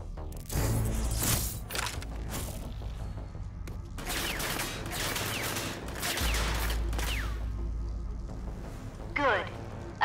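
Simulated enemy gunfire in the video game Rage 2, bursts of rapid shots and impacts interleaved with mechanical whirs and a low rumble, loud and dense in stretches.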